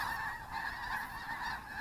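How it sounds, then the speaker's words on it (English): A flock of geese honking loudly and continuously outdoors, close by, in dense overlapping calls with a faint high whine from a small FPV drone flying nearby. "boy, those geese are getting loud, aren't they?"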